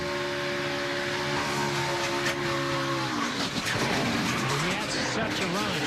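Race cars at the Daytona 500 NASCAR Cup Series race lose grip and skid, a dense roar of engines with tire noise shifting midway, loud and continuous under a commentator's voice.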